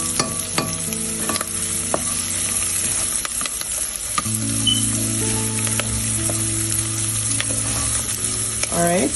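Vegetables sauté in a hot pan, sizzling steadily while a utensil stirs and scrapes them in repeated strokes, close and fairly loud, with no talking.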